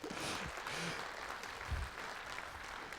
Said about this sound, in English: There you go, Liberal Democrats applauding as I say something that Europe shouldn't do.